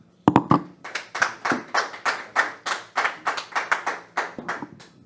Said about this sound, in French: On va pouvoir applaudir parce que c'était intéressant.